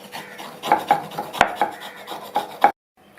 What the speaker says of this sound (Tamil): ஒரு கத்தியை வச்சு இந்த மாதிரி சுரண்டி விட்டுட்டோம்னா நல்ல புடலங்காய் வந்து க்ரீன் கலரில்